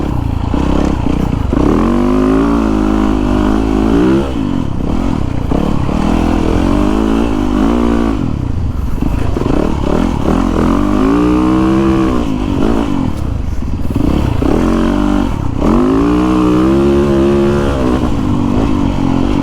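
Yamaha YZ450FX 450cc four-stroke dirt bike ridden hard, its loud engine rising and falling in repeated revving surges with gear changes and a constant rough roar, close to the listener.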